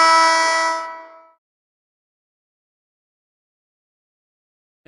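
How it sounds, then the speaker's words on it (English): A loud, harmonic electronic buzzer blares unexpectedly during a stream of a competitive video game tournament match, holding steady for about a second before fading out, followed by silence. "that buzzer was not intended to happen"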